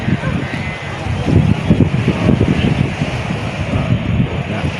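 Waves slap against large boats in a strong northeast monsoon wind, a dense, surging wash with gusty wind noise buffeting the microphone throughout, steady and close.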